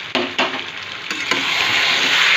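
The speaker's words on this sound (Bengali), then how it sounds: "মাংসটা আমার প্রায় কষানো হয়ে গেছে।" Mutton in a yogurt-based sauce sizzles steadily in a hot pan as it is sautéed until almost done, with a few sharp stirring scrapes early on before a continuous loud frying hiss.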